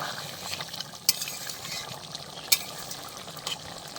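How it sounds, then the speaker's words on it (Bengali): Mutton is stir-fried for kosha in a pan, with a low steady sizzle and wet stirring, broken by a few sharp clinks and scrapes of a spatula against the pan. "এইভাবে কষে কষে এটাকে সিদ্ধ করে নিতে হবে"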